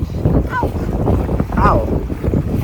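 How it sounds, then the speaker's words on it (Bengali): Steady engine drone of a sightseeing boat cruising on the water near Antalya, Turkey, continuous throughout with wind noise and people talking over it. "বন্ধুগণ, আমাদের জাহাজ চালু হয়ে গেছে।"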